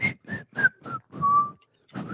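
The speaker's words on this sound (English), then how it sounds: "I got to work on my whistling" A person whistles a short, tuneful phrase of separate clipped notes, with one longer held note and a final rising note after a brief pause, close and clear.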